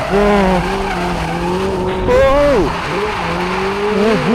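A Hyundai RN24 electric supercar, a small, light, 650-horsepower all-wheel-drive machine, drifts with loud, sustained tire squeal and skidding that wavers and swoops in pitch, with electric motor whine throughout.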